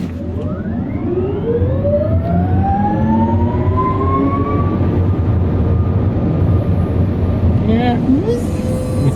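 A Genesis GV60 Performance electric car plays its artificial E-motor driving sound, a smooth synthetic whine that rises steadily in pitch as the car accelerates on a highway at night, with a low rolling drone beneath it.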